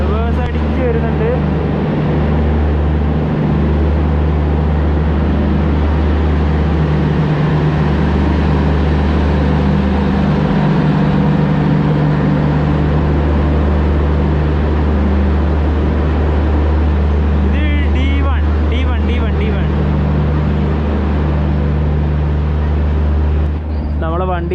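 Passenger train rake reversing slowly into the platform at Ekta Nagar railway station, a steady low rumble with a constant locomotive drone throughout, loud and close, with brief squeals and clatter near the end and voices nearby.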